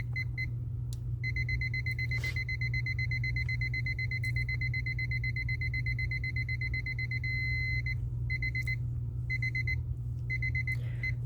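A kitchen-style timer beeps in steady, rapid high-pitched pulses, sustained and fairly loud over a constant low hum, with brief breaks in the beeping along the way.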